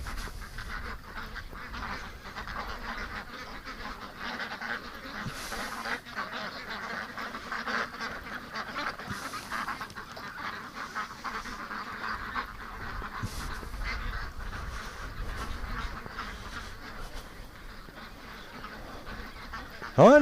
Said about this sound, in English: Oh, almost everybody's in. Come on, ducks. In you go.